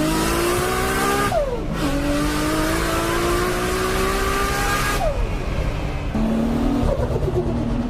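A 1000hp Nissan R32 GT-R in Forza Horizon 3 revs hard through the gears, its engine note climbing and dropping at each shift, with tire squeal over a loud continuous roar and no talking.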